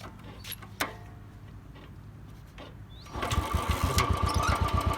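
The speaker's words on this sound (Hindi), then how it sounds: "ये एक किक में स्टार्ट होगी, बस रेस नहीं देनी है।" A Royal Enfield Bullet 350 motorcycle gives a few faint clicks and knocks as it is kicked. It then fires up into a steady, thumping single-cylinder idle, close and fairly loud.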